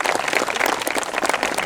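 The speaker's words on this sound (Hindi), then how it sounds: "मैं ऑडियंस से रिक्वेस्ट करती हूँ कि वो एक बार फिर से जोरदार तालियों से स्वागत" An audience claps steadily and warmly to welcome the guest at a fireside chat event, a dense, continuous patter of many hands, loud and close, with no voices over it.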